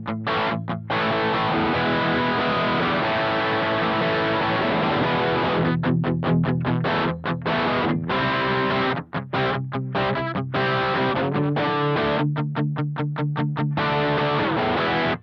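An electric guitar runs through a Nux XTC overdrive pedal based on a Bogner Ecstasy red channel, giving thick, saturated distortion as sustained chords alternate with choppy, muted rhythmic stabs, loud and alone without speech.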